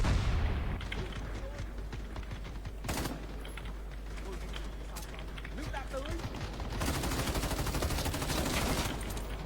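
Gunfire in the online shooter CrossFire during a team battle: dense, continuous bursts of automatic weapon fire with sharp cracks, loud and unbroken throughout.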